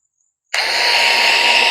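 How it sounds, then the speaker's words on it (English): A power drill bores holes into logs for shiitake mushroom cultivation. After a brief silence it starts abruptly with a loud, steady, high-pitched whine that continues to the end. "I'm just kind of drilling holes, I guess, just far apart"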